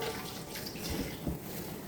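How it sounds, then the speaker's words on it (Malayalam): Lemon water poured into a cooking pot over potatoes, a soft continuous splashing trickle heard close and alone, steady throughout with a couple of slightly heavier gushes near the end. "ഇനി നമുക്കൊരല്പം നാരങ്ങ വെള്ളം കൂടെ അതിലോട്ട് ചേർത്ത് കൊടുക്കാം."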